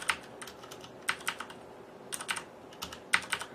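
Keys clacking on a Corsair Vengeance K70 mechanical gaming keyboard with Cherry MX switches, in short uneven bursts of several crisp strikes each, close and fairly quiet, with no one talking.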